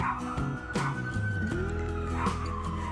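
A city ambulance siren wails through the street, its rising and falling tone sweeping across the whole stretch at moderate distance and blending with passing traffic noise.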